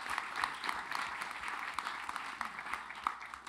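Audience applause at a commemorative event celebrating Medgar and Myrlie Evers, a moderate, steady patter of hands filling the room without voices over it.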